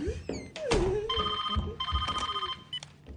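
A telephone rings indoors with a loud, trilling bell in two bursts. A sharp thunk and other handling noises come just before the rings, and voices are faintly audible beneath them.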